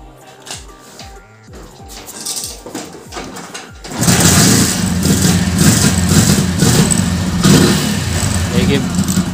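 A motorcycle fitted with an LPG kit, kick-started on petrol with the choke on: kicks sputter before the engine catches and settles into a loud, steady idle.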